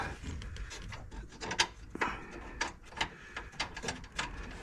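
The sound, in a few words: nut being put on a 1970 Wildcat steering column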